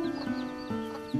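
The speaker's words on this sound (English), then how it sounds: "These are our castle sheep. They're from the Isle of Wesson, off the coast of Brittany." Isle of Ouessant sheep bleat repeatedly in a castle's grounds in late summer, several overlapping wavering calls at close range with no talk.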